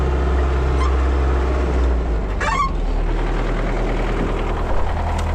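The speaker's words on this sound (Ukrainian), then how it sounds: "І трактор тяне." An MTZ-80 tractor engine pulling a deep disc harrow with its discs sunk to full depth: a loud, steady low diesel drone with a knocking quality and a brief mechanical clatter partway through, and no voices.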